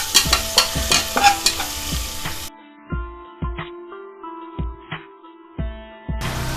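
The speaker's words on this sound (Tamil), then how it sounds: "வெங்காயம் போட்டுக்கலாம். சேர்ந்து நல்லா எல்லாம் அப்படியே கலந்து வரட்டும்." Onions fry in a pan for a Tamil-style chicken curry, with a bright sizzle and quick metallic stirring clatters. The clip then turns to spaced spoon scrapes and knocks with quiet gaps between.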